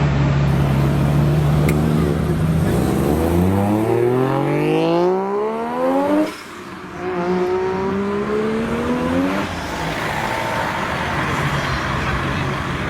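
A JDM car engine revs hard through rising tones as it climbs toward redline, turbo spooling up, then eases off and pulls again, loud and close with no voices.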